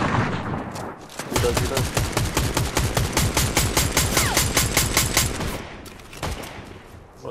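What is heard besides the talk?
gunfire in the Fortnite video game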